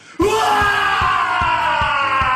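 A man lets out a loud, sustained yell in a political campaign ad, a single drawn-out shout that starts abruptly and holds for about two seconds.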